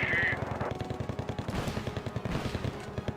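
Rapid bursts of automatic gunfire from a real-time strategy war video game, dense rhythmic rattling shots at close range with a brief electronic tone at the start.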